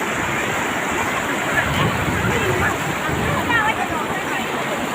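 Floodwater in Thailand rushes and pours downhill in a continuous broad roar, steady and fairly loud, with wind buffeting the microphone.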